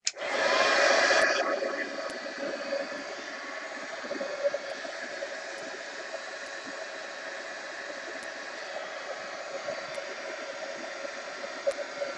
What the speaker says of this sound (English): I'm gonna have to use the heat gun.